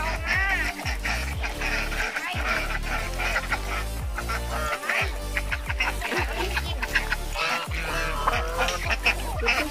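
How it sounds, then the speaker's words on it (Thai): Chickens crowd around at morning feeding, clucking and squawking loudly and close in a busy, overlapping chorus with rhythmic pecking and scuffling, while geese or ducks honk among them. "ตื่นเช้ามาก็ต้องเอาข้าวให้ไก่กินก่อนนะครับ"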